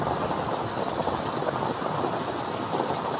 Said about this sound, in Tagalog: alas 3 ng hapon umulan